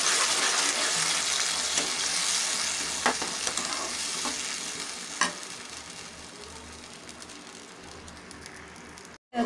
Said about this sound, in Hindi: अच्छे से भून लेंगे टमाटर को